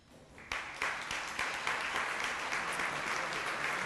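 An audience at a Hall of Fame induction ceremony breaks into applause for an inductee, the clapping starting with a few claps and swelling into sustained, dense applause across the room.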